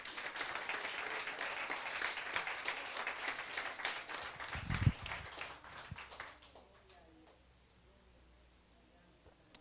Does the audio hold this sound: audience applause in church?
yes